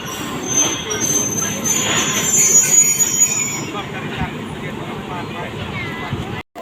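A Madhumati Express train on the Dhaka to Rajshahi line at Rajbari railway station, a loud steady rumble with wheel squeal and hiss that fades toward the end, with voices mixed in.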